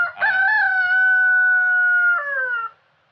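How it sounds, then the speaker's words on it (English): A Plymouth Barred Rock rooster crows once, loud and close, a long sustained call that drops in pitch near the end before cutting off. "And in case you're wondering, Buddy is a Plymouth Barred Rock, is what he is."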